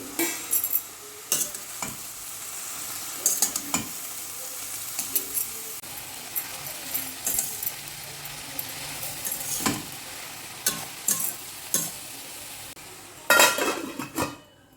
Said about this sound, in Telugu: ఇలా తోటకూర అంతా వేసేసుకున్నాక కొద్దిగా ఉప్పు వేసుకుని కలిపి మూత పెట్టుకోవాలి.